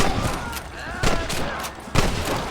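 Cover gunfire in a Red Dead Redemption battle, bursts of rifle and repeating gunshots cracking at irregular intervals over a noisy fight, with voices shouting underneath.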